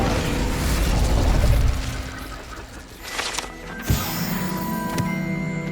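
A fire spell cast in the Hogwarts Legacy video game: a roaring, whooshing burst of flame with a deep rumble that fades after about two seconds, followed by lighter magical tones and a sharp pop.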